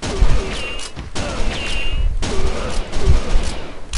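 Rapid bursts of gunfire from a police shooting video game (Virtua Cop 2), loud and close, arriving in clustered volleys with brief gaps between them, with a faint voice underneath.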